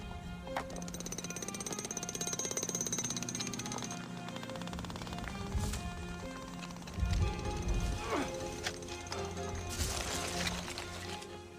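A jackhammer-like power tool rattles rapidly against rock while digging out Tyrannosaur fossils, with pauses, clanks and scraping between bursts, up close.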